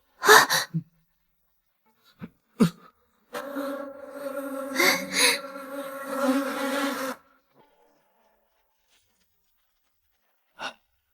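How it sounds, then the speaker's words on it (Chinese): A dense swarm of bees buzzes loudly for about four seconds, framed by a few sharp clicks and short breathy bursts before and after. "怎么有这么多蜜蜂？"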